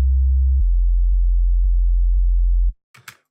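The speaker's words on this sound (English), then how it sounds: "So once we've got that, we've just got this basic sine wave." A basic low sine wave sub bass from an FM8 synthesizer, a steady deep tone holding for over two seconds with faint periodic clicks before cutting off, followed by a brief bit of quiet noise.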